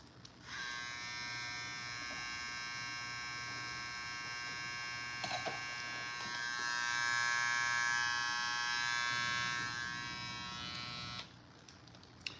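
An Andis GTX-EXO electric hair trimmer buzzes steadily at close range for several seconds, a constant high whine that swells slightly before switching off.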